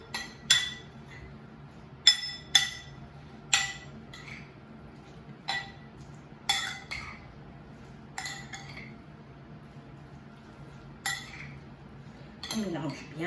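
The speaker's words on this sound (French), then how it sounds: "Je vais mélanger tout." Utensils mixing chicken, mushrooms and thyme in a dish, with sharp metallic clinks against the bowl at irregular intervals, quiet gaps between strikes and a faint background hum.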